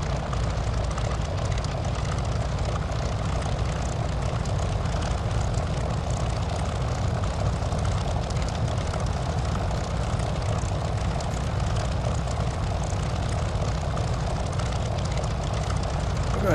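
A P-40F Warhawk propeller engine in Microsoft Flight Simulator drones steadily and evenly with the throttle backed off for landing, a continuous buzzing roar at moderate level throughout.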